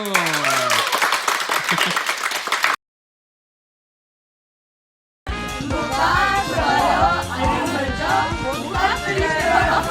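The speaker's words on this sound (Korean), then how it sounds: "박수" A group gathered after a men-versus-women wrestling match claps together in a quick burst, cut off by a silent gap before loud music takes over.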